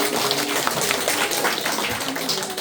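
An audience at a chart-trading lecture applauds the lecturer with dense, sustained clapping that stays fairly loud and continuous throughout.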